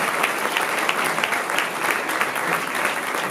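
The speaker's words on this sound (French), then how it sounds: "Je pense qu'on peut tous les applaudir, les féliciter" An audience applauds at a film premiere in France, dense steady clapping from a sizable crowd filling the whole moment at an even level, with no voices standing out.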